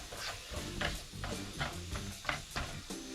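Food frying in butter in a hot pan is stirred with quick, rhythmic scraping strokes about twice a second over a faint sizzle, heard fairly quietly and close up with no voices.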